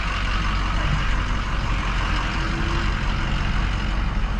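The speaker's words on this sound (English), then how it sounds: "Here, I'm gonna back my truck up." A truck backs up at a drive-thru, its engine rumbling loud and steady throughout with a faint, sustained tone running under the noise.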